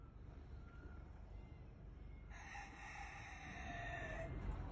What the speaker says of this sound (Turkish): Oradan horoz sesleri de geliyor.